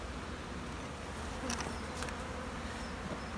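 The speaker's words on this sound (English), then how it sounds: "just tapping the bees off just to make sure we ain't lost any queens there" Honey bees buzz in a dense, continuous hum as they are tapped off a hive frame, with a couple of brief knocks partway through.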